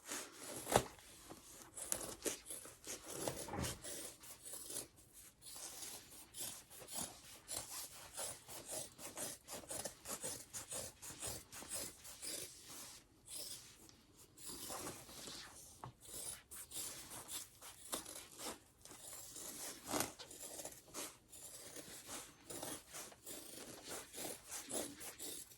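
Fabric seam allowances on the curves of a sewn convention bag are trimmed by hand with scissors, giving steady, close rasping snips and rubbing with no talk.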